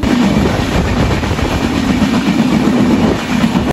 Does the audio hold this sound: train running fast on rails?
yes